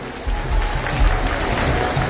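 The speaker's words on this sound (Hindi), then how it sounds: "छोटे छोटे बच्चों के लिए जोरदार तालियां तो बनती हैं।" Sustained applause from an audience at a Rose Festival 2023 prize distribution ceremony, cheering small children called to the stage; a steady, dense clatter of many hands continues at moderate loudness from start to end.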